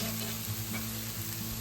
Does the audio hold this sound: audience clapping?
no